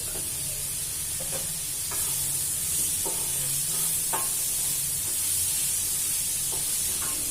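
Tomato and date chutney cooking in a pan, with a soft steady sizzle and scattered stirring scrapes and taps over a constant hiss.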